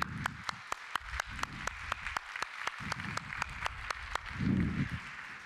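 A modest audience applauds to welcome a guest speaker at an Italian special-effects talk, with sparse, distinct claps in an uneven rhythm over a low murmur and a brief swell of voices near the end.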